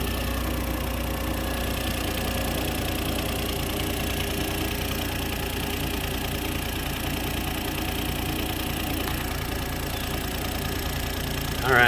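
A 2008 Smart Car engine idles steadily after an oil change, a continuous even mechanical rumble with slight ticking, heard close and alone for the whole stretch.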